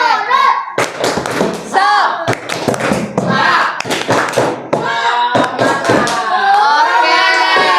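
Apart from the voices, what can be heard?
class doing 'tepuk semangat' rhythmic clapping chant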